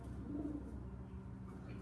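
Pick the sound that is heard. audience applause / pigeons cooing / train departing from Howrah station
pigeons cooing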